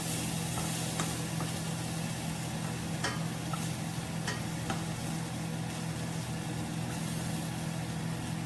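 Food in a pan sizzles steadily in soy sauce, a constant close frying hiss with a few faint clicks and utensil taps, heard alone without talk.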